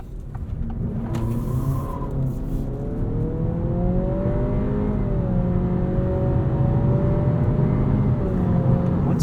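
A 2023 Acura Integra with a CVT accelerates from a stop in normal drive mode, its engine droning loudly and steadily with a smoothly rising, held tone under continuous road noise, heard from inside the cabin.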